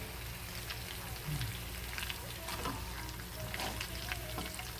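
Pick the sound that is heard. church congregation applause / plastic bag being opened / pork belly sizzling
pork belly sizzling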